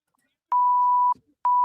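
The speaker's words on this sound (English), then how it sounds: "Gina said, beep, beep" Censor beeps over a watch-party talk stream: two loud pure electronic tones, the first held about half a second, a short gap, then a second starting, alone without speech.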